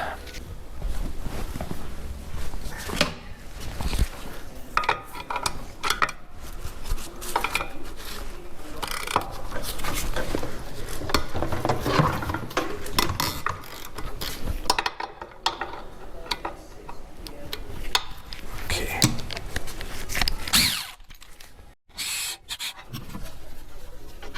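Mechanical clicking and rubbing from a ratchet loosening the connecting rod bolts on a Kohler Pro V-twin 22 hp engine during a rebuild, a steady close workshop sound running for about twenty seconds before dropping off.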